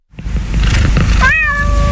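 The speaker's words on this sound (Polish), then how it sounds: "to jest kot Felix" A single drawn-out cat meow rises and fades, close and clear, over a noisy background.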